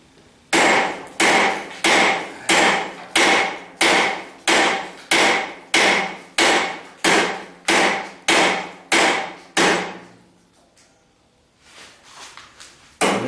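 A hammer strikes a 1976 Corvette strut rod over and over during removal, about fifteen loud, evenly spaced metallic blows in quick rhythm, then a pause before a scrape and another hit.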